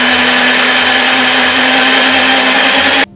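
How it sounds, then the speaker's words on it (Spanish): A blender whirs loudly and steadily as it mixes healthy chocolate cake batter sweetened with stevia, a constant close motor drone that cuts off abruptly just before the end. "Lo batimos todo."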